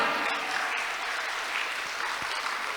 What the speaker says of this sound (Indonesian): Kita berikan aplaus yang meriah